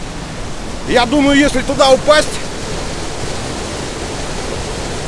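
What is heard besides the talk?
rushing water flow at a hydroelectric dam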